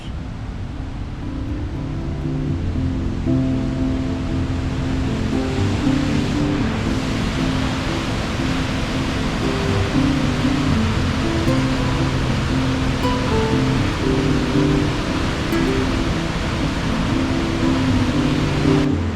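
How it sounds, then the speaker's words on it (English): Waterfall plunging into a canyon, heard from a viewing platform near Nordegg, a steady broad roar of falling water that swells in after the first couple of seconds and holds constant, with no talking. "You can see the waterfall roaring down into the canyon from multiple viewing platforms."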